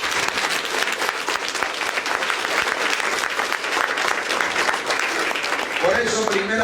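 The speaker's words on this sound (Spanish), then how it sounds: "Dele palmas al Señor." A church congregation claps for the Lord, dense applause from many hands filling the room, while a voice talks faintly underneath and some music or chanting comes in near the end.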